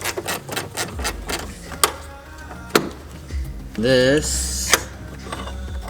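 A bolt on a Jeep Wrangler JL fender liner is being unscrewed with a ratchet, giving close, quick mechanical clicks and short bursts. A person speaks over the work.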